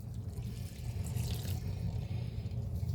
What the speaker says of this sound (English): that cup of beef broth, we're going to add that.